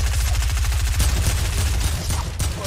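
Rapid gunfire in Fortnite, a loud fast stream of shots pounding in a regular rhythm for about a second, then continuing as a rougher, denser barrage.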